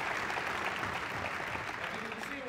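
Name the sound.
audience applause after a presentation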